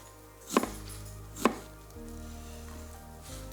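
A knife chops a red onion on a cutting board, giving two crisp, distinct knocks about a second apart followed by a fainter tap, close and quiet against a low background hum.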